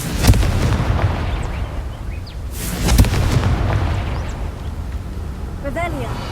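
The Confringo explosion spell in Hogwarts Legacy bursts with booming blasts, one near the start and a stronger one midway, with a character's voice speaking over the rumble.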